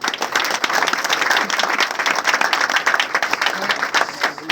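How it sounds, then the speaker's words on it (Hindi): Audience clapping at a celebration program, a dense continuous wash of many hands at steady loudness with faint voices mixed in. "ताली बजाओ।"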